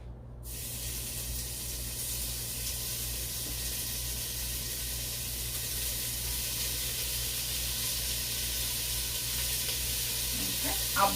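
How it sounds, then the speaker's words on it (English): Bacon frying in canola oil in a pan on a stovetop burner, a steady dense sizzle and hiss that holds evenly throughout, close by and without talk. "Just to kind of start the bacon, have something for the bacon to start frying in."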